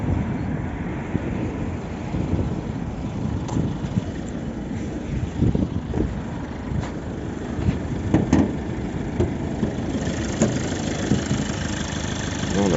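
A Toyota Avensis 2.0 D-4D diesel engine idles with a steady low rumble throughout, joined by some wind buffeting against the microphone.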